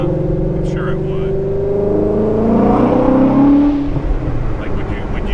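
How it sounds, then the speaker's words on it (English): A sports car, either a BMW E92 M3 or a Shelby GT350, drives with its engine droning and rising through a rev before dropping away as it downshifts, heard from inside the cabin. "The downshifts are nice."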